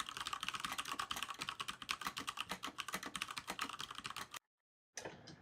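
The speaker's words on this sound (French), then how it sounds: "je crois que Léa a un clavier mécanique" Rapid clacking keystrokes on a mechanical keyboard, dense and continuous for about four seconds, then a brief silence before a few more keys resume; no talk.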